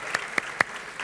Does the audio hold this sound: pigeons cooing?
no